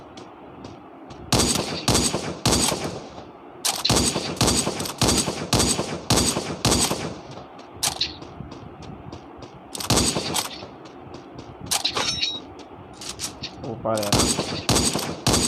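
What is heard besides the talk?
gunfire in a mobile shooting video game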